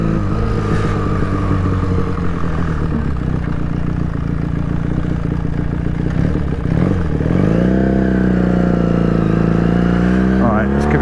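Honda CX500 motorcycle engine running steadily while riding, a loud low drone that rises in pitch as it accelerates toward the end, with a rider talking over it at times.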